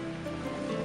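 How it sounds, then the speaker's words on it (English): Ocean waves wash in a sheltered bay, a brief, steady and fairly close rush of surf with no voices. "the sound of the waves"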